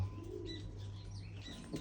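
Pigeons kept for sale cooing softly nearby: faint, low, rolling coos with a few thin chirps over a quiet background.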